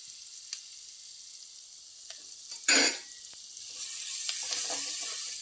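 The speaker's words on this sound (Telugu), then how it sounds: "అలాగే ఉల్లిపాయ ముక్కలు వేసేసుకున్నాం అండి" Long-sliced onions dropped into a pan for a mixed vegetable curry: a quiet hiss, then a sudden loud sizzling burst, followed by a steadier frying crackle with small utensil clicks, no voices.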